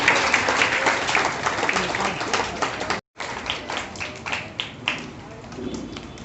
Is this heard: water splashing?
no